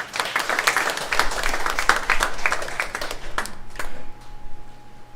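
Church congregation applauding together, a steady mass of hand claps running throughout at moderate volume, with a few voices faintly mixed in.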